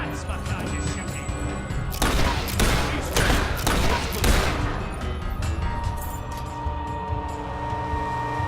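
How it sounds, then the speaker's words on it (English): Bursts of gunfire ring out in a Fable 3 battle at a rebel fortress, with several heavy volleys clustered in the middle amid a constant din of combat. "That's my kind of shooting."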